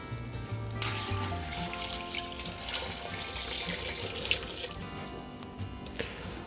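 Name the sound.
beef broth being poured into stew pot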